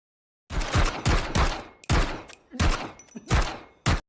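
Rapid bursts of automatic gunfire in a film shootout, several loud volleys of tightly spaced shots separated by brief silences, close and alone.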